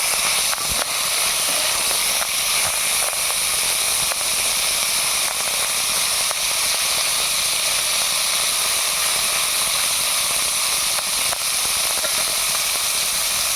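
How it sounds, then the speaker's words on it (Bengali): Small puti fish frying in hot oil in a pan over a rural kitchen fire, producing a loud continuous hissing sizzle that stays steady throughout, with faint scattered crackles and no talking. "এই পুঁটি মাছগুলোকে দিয়ে দেওয়া হচ্ছে দেখুন ভাজা হচ্ছে হালকা আছে ভাজা হবে"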